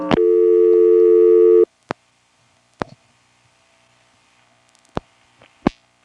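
A busy or reorder tone on an NX1-E telephone exchange at Vanceboro, NC, following a switchhook flash: a steady loud tone held for about a second and a half, then several sharp isolated clicks scattered through the near silence.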